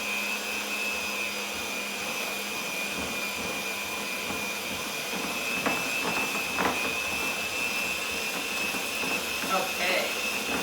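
Electric mixer beating 1 cup of sugar into Crisco shortening for gingersnap cookie dough, a steady whirring motor hum running continuously throughout with a few light clicks near the end.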